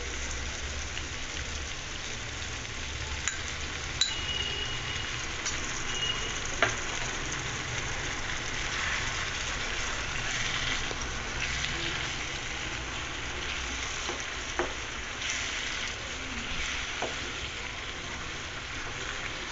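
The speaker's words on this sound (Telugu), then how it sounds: "ఇప్పుడు ఇందాక తయారు చేసి పెట్టుకున్న మిశ్రమాన్ని ఇందులో కలుపుకుందాం." A prepared spice mixture goes into a pot of dum biryani and is stirred in, giving a steady close sizzle and frying hiss with faint scraping clicks and no talking.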